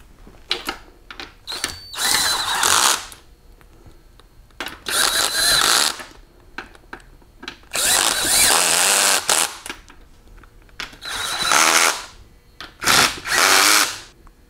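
Power tool bursts from a torque wrench tightening bolts to 30 foot-pounds on a Super T10 four-speed transmission during a rebuild: five loud, rasping runs of a second or so each, separated by quieter pauses with small clicks and handling noise.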